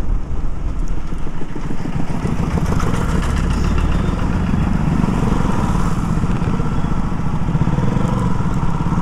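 A Yamaha R15 V3 motorcycle engine runs loud and close on a street during a race against a KTM RC 200, with a steady rough throb and no speech.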